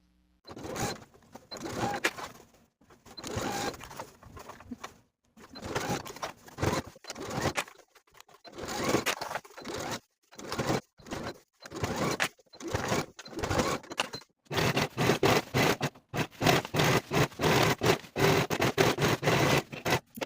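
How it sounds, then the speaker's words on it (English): A sewing machine runs in bursts of start-stop stitching while a ruffle is sewn all the way around the bottom of a dress, getting faster and denser toward the end; no voices. "Now we can sew the ruffle to the bottom of the dress all the way around with a 1/2 inch seam allowance"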